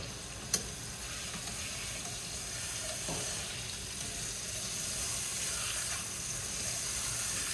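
A steak fries in a hot pan, giving a continuous, even sizzle and crackle that holds steady throughout, with one sharp click near the start and no talk.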